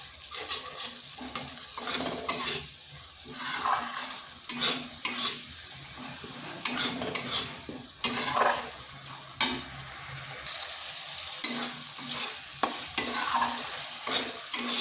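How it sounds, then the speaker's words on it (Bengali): Spices for aloo dum sizzle and fry in a hot pan while a utensil repeatedly scrapes and stirs, with irregular clatter throughout; no one speaks. "এর বেশ ভালো করে কষিয়ে নিতে হবে।"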